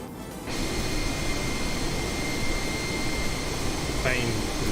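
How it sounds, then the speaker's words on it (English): Steady airliner cabin engine drone in Microsoft Flight Simulator 2020, a constant broadband roar with a faint tonal whine, continuous and close, with a brief click partway through. "Plane is a bit noisy on this side, isn't it?"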